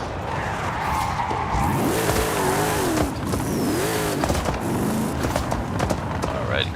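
A Chevrolet K10 drag racing a quarter mile in the video game Forza Horizon 5: loud engine revving and rising, falling pitch sweeps through gear changes, with squealing tires and skidding, no talk.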